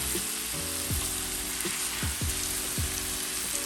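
Potatoes dredged in flour frying in a pan sizzle steadily and close up, with several scraping sweeps of a spatula as the pieces are flipped over; no one speaks.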